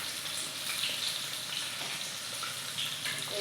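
A piece of fish frying in hot oil, a dense, steady sizzle and crackle that fills the whole span loudly and without pause.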